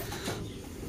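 Racing pigeon cooing softly in a single brief, low, muffled call at close range, with steady background noise and no talk.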